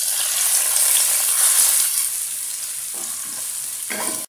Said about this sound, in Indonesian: kita masukkan kita punya bumbu bawang putih dan bawang merah. We saute it, kita tumiskan